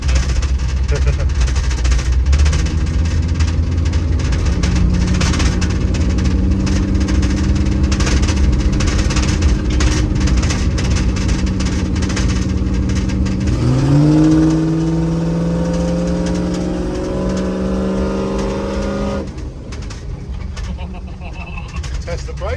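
Classic Range Rover V8 abandoned for years, its engine idling and then revving with rising and falling tones before settling back, loud and close, with outdoor bird sounds in the background.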